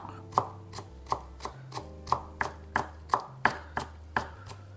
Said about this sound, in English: Roughly chopped.